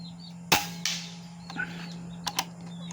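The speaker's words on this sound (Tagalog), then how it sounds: "Firing." A Taurus air rifle fires close by, giving a sharp crack at the start followed by several fainter clicks and pops over a steady low hum.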